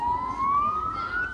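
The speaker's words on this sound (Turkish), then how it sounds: "Oğlunun cenazesini taşıyan ambulansın siren sesini duyduğunca anne Ayşe Bülbül" An ambulance siren carrying a funeral procession wails as one loud, steady tone that slowly rises in pitch, with no voices over it.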